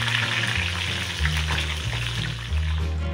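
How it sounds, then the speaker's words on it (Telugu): Curry leaves and green chillies fry in hot oil as a garnish for prawn pakoda. A loud, close, continuous sizzle crackles and spits throughout under a steady low hum, with no talking. "ఈ వేడి ఆయిల్లో కరివేపాకు ఇంకా పచ్చిమిర్చి వేసుకొని కొంచెం ఫ్రై చేసుకోండి"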